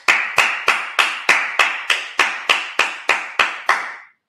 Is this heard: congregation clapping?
yes